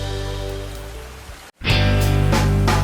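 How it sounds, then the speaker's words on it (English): Cartoon rain falls as a steady broadband hiss that cuts out briefly and then returns louder and denser, with no talking. "It's raining today."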